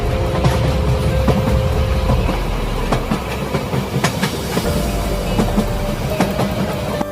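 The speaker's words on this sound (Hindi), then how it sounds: "तभी स्टेशन पर कश्मीर जाने वाली ट्रेन आ जाती है" A train bound for Kashmir pulls into a station as a sound effect in an animated horror story, a loud continuous rumble with rhythmic clickety-clack of wheels and faint metallic squeals, with no voices.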